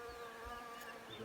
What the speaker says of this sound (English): the hum of bees everywhere makes someone like me really happy